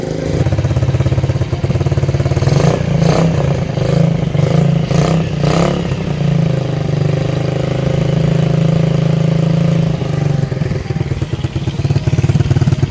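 A close CT 100 motorcycle, converted to a cafe racer with a dB killer fitted in the exhaust, idles with a steady throb, blipping the throttle in a few quick revs early on before settling back to idle.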